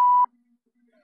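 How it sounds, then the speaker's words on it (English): An answering machine gives a single short, loud electronic beep at one steady pitch, cutting off abruptly into near silence. "So dump it at the beep."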